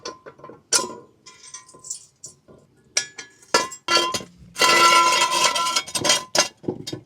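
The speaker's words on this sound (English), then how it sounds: "Set the other jack. Don't forget to put the locking pin in." Metal clinks, ratcheting clatter and scraping as a car jack is set under a project car during a tire change, in irregular bursts with one longer grinding stretch near the end.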